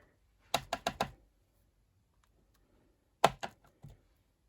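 A rubber stamp pressed onto paper while decorating a snowflake gift box. Four quick sharp taps come in a row, then a pause, then another short cluster of three or four taps, close and crisp in a quiet room.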